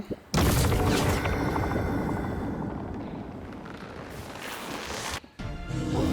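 Heavy gunfire and booming impacts while shooting at a boss in the game Core Keeper: a sudden loud burst that sustains as a dense barrage, briefly drops out, then resumes, with no talking.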